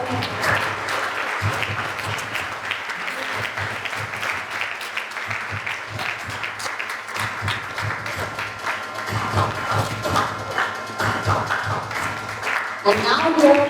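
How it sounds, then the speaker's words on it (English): An audience at a school student council investiture ceremony claps in steady, dense applause that lasts throughout and swells slightly near the end, with a voice speaking faintly underneath. "give them a big round of applause."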